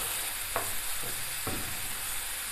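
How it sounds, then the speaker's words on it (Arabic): Sliced onion and pepper sauté in oil in a pan, a steady close sizzle broken by two brief scraping stirs. "خليوها تشحر مزيان وتهبط لينا هاد البصيله مع الفلفله"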